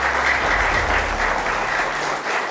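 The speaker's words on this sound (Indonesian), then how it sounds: "tepuk tangannya boleh." University students in a live television talk-show studio audience applaud in a dense, steady burst of clapping, close and loud, with no talking over it.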